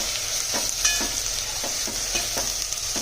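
Spices sizzling in an oily pan as a spoon stirs them before buttermilk goes in, a steady hiss broken by a regular series of soft scraping strokes, close and with no speech.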